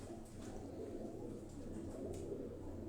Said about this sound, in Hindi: ये प्रवासी कबूतर आपको दिखा रहे हैं